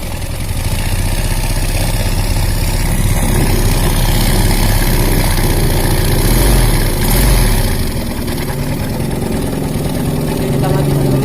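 Close and loud, the engine of a 2006 Yamaha Jupiter Z motorcycle rumbles steadily and swells briefly as it is revved, with someone speaking over it.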